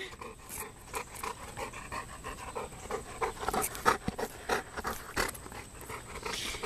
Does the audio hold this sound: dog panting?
yes